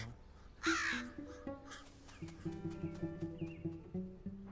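A young crow, still blue-eyed with red skin at the beak, gives a series of rhythmic, moderately near caws, preceded by a brief louder burst of rustling noise.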